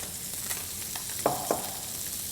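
Salmon fillet searing in a hot pan, a soft continuous sizzle with a couple of brief crackling pops, fairly quiet and heard alone without talk.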